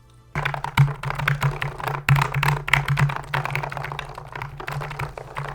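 Rapid clacking of keys on a Varmilo FK2 keyboard, a dense, steady run of close, crisp taps and clicks with no talk, starting abruptly after a brief quiet moment.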